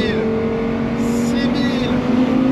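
An Audi R8 V10 Spyder with R-Tronic gearbox runs its engine in a loud, sustained tone that climbs gradually toward 5000 rpm, close and steady while someone speaks over it.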